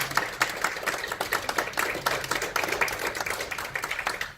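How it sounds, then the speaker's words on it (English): Applause for a speaker after an Everest Base Camp trek talk, a small audience clapping steadily at moderate volume, with crisp individual hand claps audible throughout. "please let's give her another nice round of applause."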